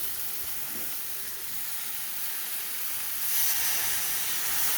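A pan of potato and cauliflower curry in spices sizzles with a steady, close hiss as water is added, growing louder and steamier toward the end.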